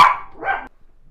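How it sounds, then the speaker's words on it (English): A dog barks at the postman: one loud, sharp, close bark that breaks off abruptly into silence. "The postman came and the dogs went mental"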